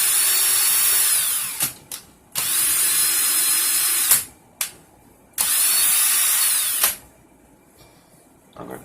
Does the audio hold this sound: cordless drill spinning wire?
yes